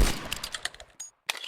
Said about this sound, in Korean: 총소리다